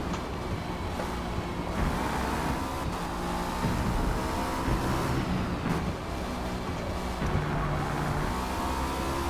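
A Cadillac V-Series.R race car in Forza Motorsport runs laps at Catalunya, its engine droning loudly and steadily with rising revs and brief drops at gear shifts throughout.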